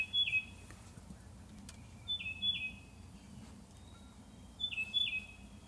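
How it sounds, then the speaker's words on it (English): Short chirping bird phrases repeat three times, a couple of seconds apart, moderately distant over a steady low rumble of background noise. "You can hear a bird singing."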